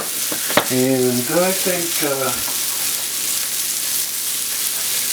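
Sliced mushrooms, eight ounces, sizzle with salt in a hot pan as a steady frying hiss, while someone speaks briefly over it near the start.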